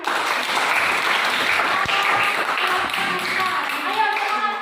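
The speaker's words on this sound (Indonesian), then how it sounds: "Ya, kita berikan aplaus." A high school class applauds together, steady dense clapping that fills the room for several seconds with some voices mixed in.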